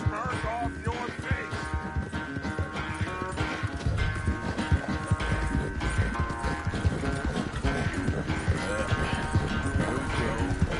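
Galloping horse hooves in the video game Red Dead Redemption II, a continuous rhythmic clip-clop under game music and ambience, with voices talking over it.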